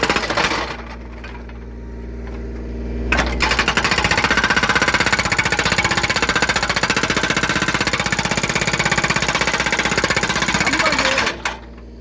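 A Kubota U35S mini excavator's hydraulic breaker pounds away while splitting firewood: loud, rapid, continuous hammering close by, easing slightly in the first seconds before running dense and steady until near the end.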